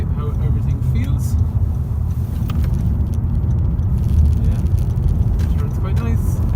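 Honda Civic i-VTEC Sport driving through roundabouts, heard from inside the cabin as a steady, fairly loud low rumble of engine and road noise that continues throughout without a break.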